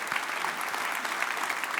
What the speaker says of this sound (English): One more round of applause for that.